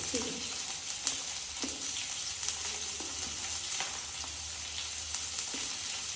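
Food fries in hot oil in a pan, a steady, close sizzle that runs throughout, with occasional stirring clatter and faint voices in the background.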